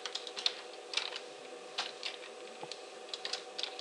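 Quick, light keystrokes on a computer keyboard while working in Excel VBA code, tapping in short irregular bursts, close and fairly quiet with no talking.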